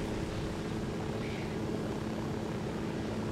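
A helicopter flies in the Ghost Recon video game, its steady rotor and engine drone holding at a fairly quiet, even level without any speech.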